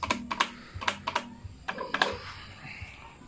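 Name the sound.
pressing buttons on Zeus Pearl 1024B lighting controller, keyboard-like clicks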